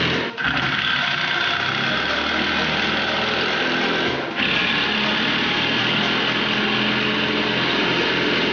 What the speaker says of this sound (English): I used a 1-inch paddle bit to drill 5/8 of an inch into the 2x4